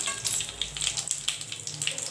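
Panch phoron spices sizzle in hot oil for a Bengali chorchori of shushni and kalmi greens, giving a steady close crackling hiss with small pops throughout.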